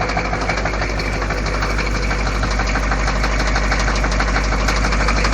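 An M1009 diesel engine cold-starts and runs at minus twenty degrees, a loud, steady, rough clattering idle with constant knocking and rumble and no voices.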